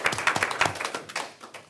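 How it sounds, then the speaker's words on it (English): A round of applause at a school board of education meeting, many hands clapping in a dense, steady patter for a short stretch and fading slightly toward the end. "can we give a round of applause to each of our students?"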